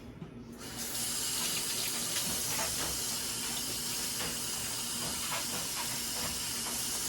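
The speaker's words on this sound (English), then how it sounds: "I like to rinse them off." Caught bluegill fish are rinsed under a tap, the water switching on after a moment and then running as a loud, steady, close hiss with faint splashes for the rest of the time, with no talk.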